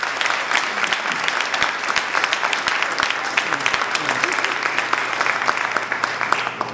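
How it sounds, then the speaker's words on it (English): Audience applause for event sponsors, a dense steady clapping from a sizable crowd lasting the whole stretch, loud and continuous with no talk over it. "if we have a round of applause for our sponsors"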